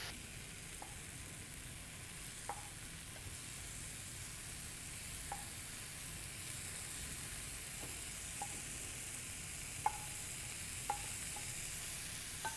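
Mutton sizzles in a pan while mutton chukka with curry leaves fries, a soft continuous crackle broken by occasional light clicks of stirring, close and quiet with no talk.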